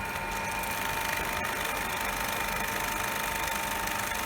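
A DC shunt motor runs steadily during a laboratory load test near its 1500 rpm rated speed, giving a continuous, even mechanical hum and whir at constant loudness throughout, with no talk.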